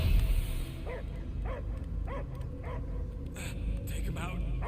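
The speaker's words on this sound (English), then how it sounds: "I hear only barking." A dog in the Marvel's Guardians of the Galaxy video game gives a string of about six short, evenly spaced barks and yips, set against a low droning rumble.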